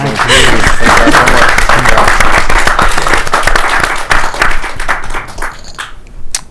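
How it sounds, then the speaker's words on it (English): An audience at an artists' talk applauds loudly and steadily, a dense wash of clapping that thins toward the end, with a few voices mixed in. "let's have applause for them"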